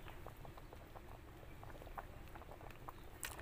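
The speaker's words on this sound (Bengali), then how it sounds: "টকবক করে ফুটছে" Moong dal and papaya boil in a pot over a clay stove, giving a faint, steady bubbling and patter with small pops throughout.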